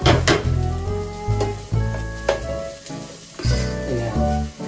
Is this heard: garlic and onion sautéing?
yes